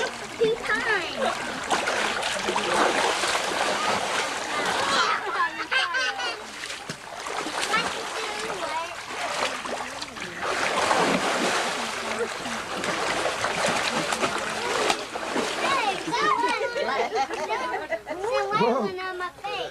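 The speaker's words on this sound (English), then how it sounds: "for the airboat ride" Water splashes and sprays during an airboat ride at a 1988 party camp, with people chattering and shouting over the wet bursts throughout; the noise stays busy and fairly loud.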